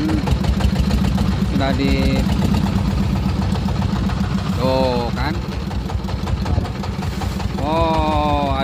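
A boat engine runs steadily and loudly on a fishing trip off the Arjuna rig in Karawang waters. The constant drone sits under brief talk from people aboard.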